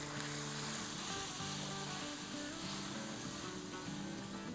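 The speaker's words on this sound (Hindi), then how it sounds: "और अब इसको भूनेंगे।" Spiced masala for kabab masala sizzles and fries steadily in a pan over medium-low heat, a close, continuous crackling hiss with no talk over it.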